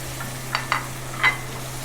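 Ground spices with a splash of water are fried and stirred in a pan for a rui fish curry. Three short, quiet scraping strokes sound over a low steady hum, with no talking.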